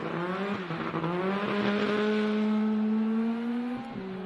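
Lucas Ramsey's rally car is driven hard on a gravel stage, its engine screaming with rising revs close by for about four seconds before a sudden drop, with gravel crunch underneath and no voices.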